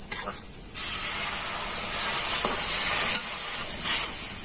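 Water poured into a hot pan of dry-roasted semolina gives a steady bright hiss and steam, loud and continuous with a few soft scraping stirs.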